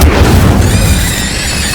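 Incendio fire spell going off in Hogwarts Legacy: a loud, booming fiery blast at the start that trails into a sustained rushing roar with a thin high whistle, close and forceful.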